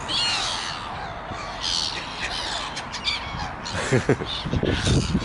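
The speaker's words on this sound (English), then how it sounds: "Big bird party." Many birds calling together at a gathering spot, with crows cawing among the mix of squawks and calls, a dense, continuous chorus that grows louder and more clustered toward the end, with some voices underneath.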